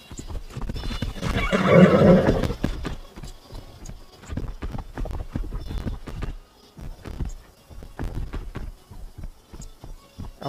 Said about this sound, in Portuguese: O cavalo tá resmungando